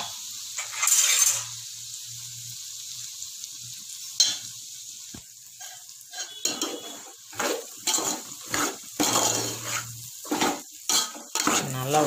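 Rava (semolina) roasts in hot ghee while being stirred, with a quiet sizzle and repeated scraping and clattering of a spoon against the pan in irregular bursts, louder toward the end.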